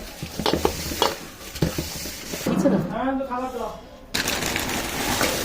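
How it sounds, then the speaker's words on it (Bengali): Spice mix for a green chilli pickle being mashed with a little cooled oil, giving soft scraping and clicking strokes up close, with a voice talking over the middle part. "সেই তেলটা একটুখানি দিয়ে মশলাটাকে ভালো করে ম্যাশ করে নিচ্ছি"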